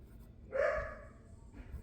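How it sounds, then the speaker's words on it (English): A single bark from a dog somewhere in the room, one moderately loud yelp about half a second long, then a fainter trailing sound, set against a quiet background with no talking. "Sorry, my dog's being loud."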